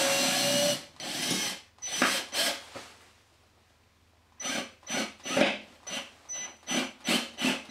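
A cordless drill with a right-angle attachment drives a plasterboard wall fixing in short, whirring bursts, first a long run, then a pause, then a rapid series of brief pulses, close and fairly quiet.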